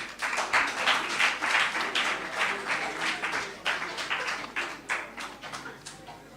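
An audience at a Lions Club zone meeting gives a round of applause, steady moderately loud clapping that pulses unevenly and tapers off toward the end.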